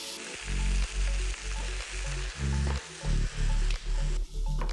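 Halibut fillet frying in a hot pan, a loud close sizzle that swells and eases in repeated bursts of about half a second each, steady crackling throughout with no talking.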